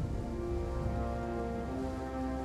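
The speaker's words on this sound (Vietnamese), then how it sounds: "trời đang mưa thì phải" Steady rain falling in the Total War: Three Kingdoms strategy game, a continuous wash of patter mixed with a sustained musical drone and no speech.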